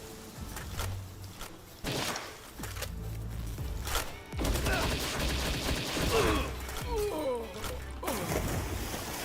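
Gunfire from several directions in a shooter video game, a boss fight against swarming enemies, with shots and impacts crackling continuously amid game noise while a person talks over it.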